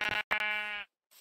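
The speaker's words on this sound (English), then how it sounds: "This sheep." Sheep bleating in Minecraft, two short close bleats, the second a sustained wavering cry, alone with no talk.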